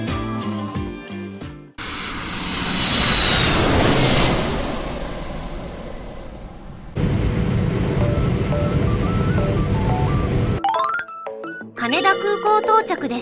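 An ANA airliner landing at Haneda Airport after an overnight flight from New York, heard as a loud, steady jet engine roar from inside the cabin in several abrupt segments, with bright chiming music at the start and end.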